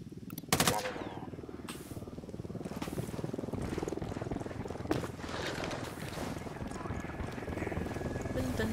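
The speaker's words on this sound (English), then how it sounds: "Chopper." A helicopter drones steadily in the PC shooter game Hunt: Showdown, with rapid gunfire bursts near the start, while voices talk over the rotor noise.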